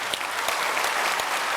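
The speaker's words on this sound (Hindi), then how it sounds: "इनके लिए ज़ोरदार तालियां बजाओ" Loud, continuous clapping from a large crowd at a public gathering in Bhubaneswar, Odisha: a dense, even wash of claps with a few sharper hits standing out.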